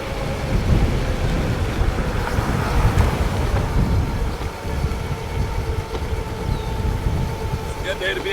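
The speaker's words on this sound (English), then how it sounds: "The wind is definitely blowing." Wind rushing past on an E300 electric scooter ride around Lake of the Isles during a rainstorm, a steady loud rumble of buffeting air mixed with rain, with speech over it.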